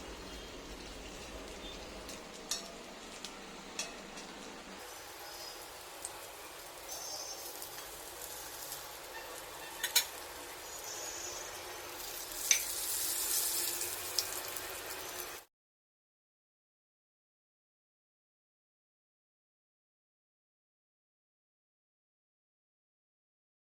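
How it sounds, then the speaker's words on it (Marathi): Stuffed bitter gourds roasting in a pan, a soft, steady crackling sizzle with occasional sharper pops for about fifteen seconds, then silence to the end. "एक साईडने भाजली की परतून घ्यायची आहेत आणि काही सेकंदसाठी भाजायचं"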